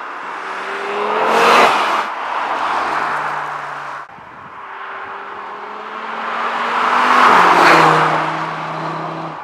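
A 2022 Audi RS3 (8Y) is driven hard, its engine loudly building revs in two long surging pulls with a brief shift break between, no voices over it.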